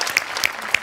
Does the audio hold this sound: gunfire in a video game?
no